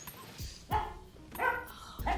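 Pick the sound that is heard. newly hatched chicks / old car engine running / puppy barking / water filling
puppy barking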